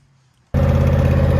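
A zero turn mower engine starts up loud and close after a half-second of near silence, then runs with a steady, rough drone that fills the rest of the moment.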